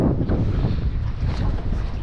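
Strong wind roars across open water during a fishing check in rough weather, a steady loud gusting rush with broad noisy buffeting close on the microphone throughout.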